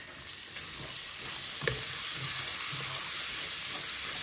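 Pumpkin dropped into a hot pan of fish curry, setting off a loud, steady sizzle and hiss with a few stirring knocks, close up and with no talking.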